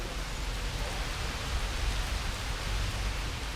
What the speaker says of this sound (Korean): 한낮의 소나기가 뜨거운 태국의 열기를 시원하게 씻어줍니다.